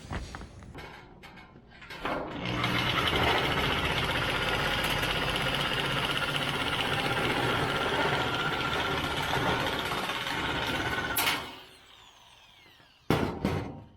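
A last roofing sheet is cut on a tiny home camper roof: a loud, steady grinding cut runs for about nine seconds without pause, then stops and leaves quieter background sounds.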